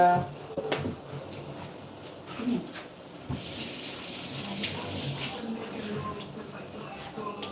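Water pours steadily from a tap or container into a pot of fish stew, a continuous hissing splash that lasts several seconds, with a few kitchen knocks around it.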